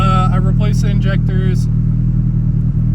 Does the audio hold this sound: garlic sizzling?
no